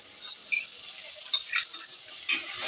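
Chilli paste seasoning for mango chitranna sizzles in hot oil while being stirred in the pan, with a steady close hiss and short bright crackles and spatters throughout.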